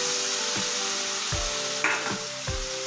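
Mushrooms fry in a pan with a steady close sizzle, broken by a few soft knocks and stirring scrapes, with no voices.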